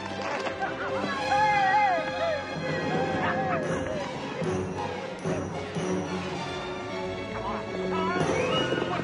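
Horses whinny and neigh amid hooves clip-clopping in a hurried escape scene, with shouting voices and scuffling mixed in at close range.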